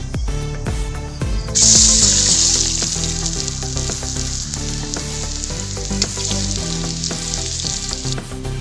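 Cauliflower pieces fry in hot oil in a wok for a fish and cauliflower curry, giving a loud, steady sizzle up close that swells briefly early on, with soft stirring and no speech.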